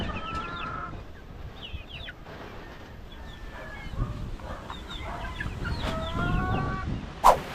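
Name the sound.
chicks chirping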